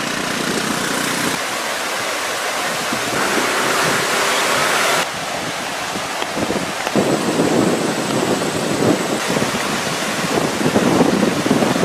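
Floodwater from the overflowing Kirama river rushes across the Tangalle–Weeraketiya road at Degekanuwa, a loud, continuous roar of churning water with no speech, holding steady throughout.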